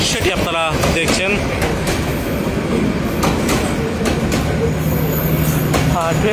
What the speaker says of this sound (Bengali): স্বাভাবিকগতভাবেই একটি ট্রেন যাচ্ছে